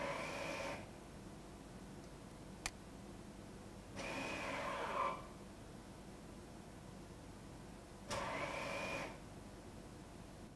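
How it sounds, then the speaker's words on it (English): A Volvo S60 electric parking brake cycling on and off in service mode, heard as faint whirring motor runs about four seconds apart over low background hiss, with a sharp click between them. "It will go through a sequence of engaging and disengaging the parking brake"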